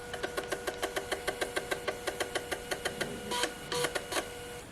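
A Sony Mavica MVC-FD200 camera's 3.5-inch floppy disk drive writes with a rapid, regular mechanical ticking and steady whir, close and fairly quiet, with a few heavier clunks near the end.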